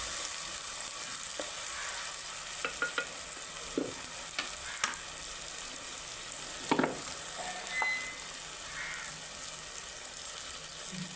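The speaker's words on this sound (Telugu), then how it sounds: "నేను ఇప్పుడైతే నూనెలో వేసుకుంటున్నాను. బాగానే గోల్డ్ కలర్ వచ్చేటట్టు వేసుకున్నాను." Two onions fry in hot oil with a steady hiss, and close, intermittent spoon scrapes and clinks against the pan break through it.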